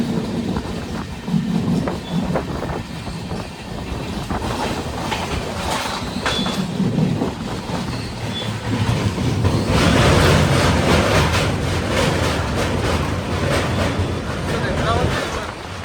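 The Gomateshwara Express rolls on rails on the Yeswantpur to Mangaluru line near Bantwal. Close rhythmic clickety-clack and wheel rumble grow louder and denser in the second half, with a voice speaking at times over the train noise.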